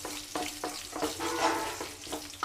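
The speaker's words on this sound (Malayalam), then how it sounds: "നമുക്കിനി ഇതിലേക്ക് ഇഞ്ചി ഇട്ട് കൊടുക്കാം. ഇത് നന്നായിട്ടൊന്ന് മിക്സ് ചെയ്ത് കൊടുക്കണം." Ginger sizzling as it is stirred into hot oil in a pan for chicken curry, a steady close fry broken by several scraping stir strokes, with no voices.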